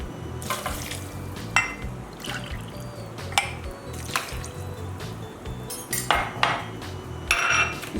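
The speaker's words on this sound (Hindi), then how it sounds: "इसमें थोड़ा हम 2 कप दूध डालेंगे।" Milk is poured into a banana and apple milkshake, with close liquid splashing and dripping mixed with several sharp clinks of cutlery and dishes, no voices heard.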